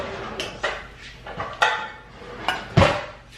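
Utensil clatters and scrapes against a mixing bowl as homemade dog birthday cake batter is stirred, several sharp clinks at an uneven pace, close and fairly loud with no talking.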